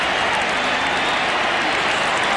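A Swan Districts crowd at the 1982 football Grand Final cheers in a dense, loud, continuous roar of many voices and clapping, steady from start to finish.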